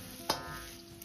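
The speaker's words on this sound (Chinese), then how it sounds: "把肉一定要煸炒至表面稍微焦黄，油脂清亮" Pork stir-fried in a wok until the surface turns lightly golden, with a short burst of a stirring scrape near the start over a steady low frying sizzle.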